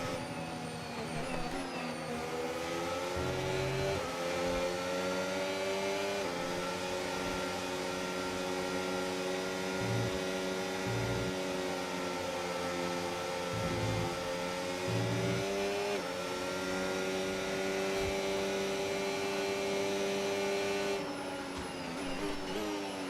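Racing car engine from an F1 video game race, a steady loud drone with rising and falling pitch as the car lifts and coasts to cool its engine, continuous throughout with no talk.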